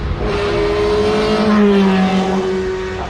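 A 1984 Tyrrell 012 Formula One car at the Goodwood event, its engine loud and close with a steady high whine that shifts pitch as it accelerates past, alone without talk.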